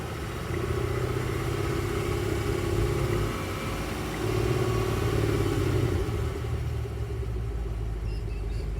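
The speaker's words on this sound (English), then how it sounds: "that's the sound of the exhaust." A Holden V8 Commodore with a bimodal exhaust idles in a deep, steady rumble, swelling slightly in two broad surges before settling, close and loud with no talking.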